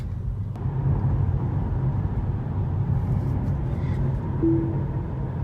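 A Tesla Model 3 cruising on Autopilot produces a steady low road rumble and tire hum, with faint wind noise, continuous and close throughout with no talking.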